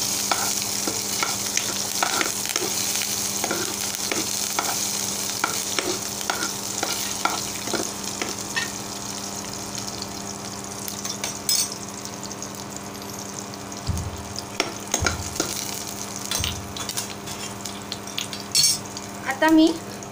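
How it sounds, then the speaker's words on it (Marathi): Onion fries in hot oil for a Marathi kartulyachi bhaji, a close, steady sizzle broken by frequent scrapes and knocks of a spoon stirring in the pan, with no talking. "कांदा घालत आहे। आता आपण सगळं परतून घेऊया तेलामध्ये।"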